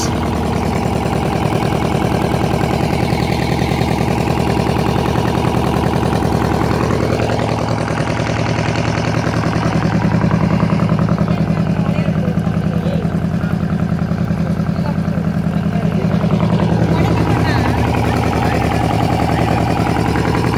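A steady, loud motorboat engine drones throughout, a low constant rumble with slowly shifting tones.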